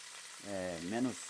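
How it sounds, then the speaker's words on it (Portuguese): Rolls frying in hot oil in a cast iron pan give off a quiet, steady sizzle and hiss, with a brief voice speaking over it in the middle. "e tá espirrando bastante óleo, viu?"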